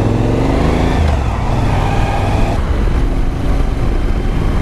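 Suzuki V-Strom motorcycle riding along a road through a cool forest, its engine drone loud and steady throughout, with wind rush and a slight change in pitch partway through.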